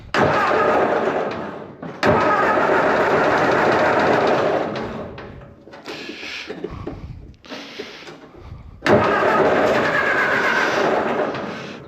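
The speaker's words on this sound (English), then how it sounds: "let's hit our start button and fire it up" A 1964 Ford 172 cubic inch engine with a T8 transmission cranks and fires in several loud, rough bursts broken by short pauses, then catches and runs on.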